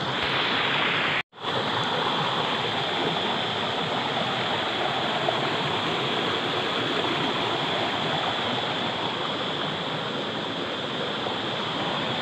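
A waterfall on the Mahendra Tanaya river: a loud, constant, close rushing roar of falling water with a brief cut near the start and no voices.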